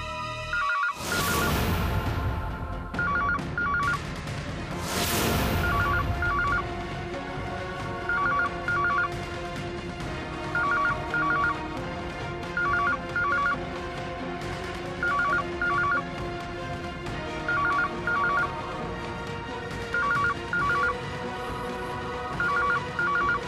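A telephone rings in repeated double bursts, steady and unanswered for over twenty seconds, after a couple of brief loud noises at the start.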